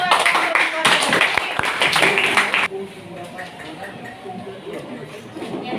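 Students in a classroom give a burst of dense, close applause for a few seconds, then it drops away to quieter room noise with voices talking.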